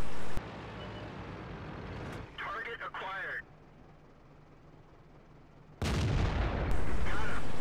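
Tank cannon fire in World of Tanks, a loud booming shot at the start and another heavy blast near the end with rumbling tail, separated by a quieter stretch with brief mechanical clatter.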